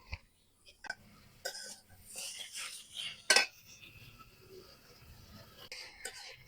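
A utensil scrapes and clinks against a metal wok while a thick mixture of grated raw papaya and date-palm jaggery is stirred, producing intermittent close scrapes and taps at a low level, with a sharper clatter partway through.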